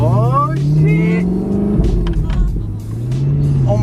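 Inside a BMW M3 racing an Audi R8 V8 with loud exhausts, a deep engine drone climbs and falls as the car accelerates hard, close and loud throughout.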